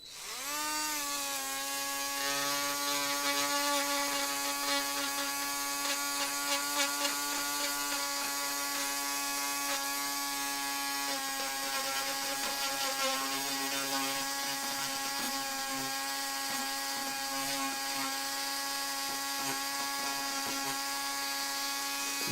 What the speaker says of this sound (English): I might have to see if I can get my little Dremel on that